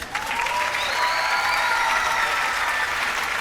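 Studio audience on a Pakistani TV game show breaks into loud, steady applause that fills the space evenly, with a host's voice faintly audible over the clapping.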